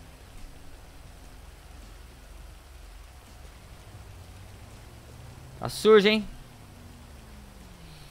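Steady rainfall in the GTA 5 video game forms a constant hiss throughout, with a brief voice breaking in near the end.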